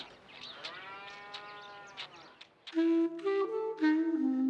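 A cow mooing, heard as drawn-out lowing calls, the later ones louder and nearer, with no talk over them.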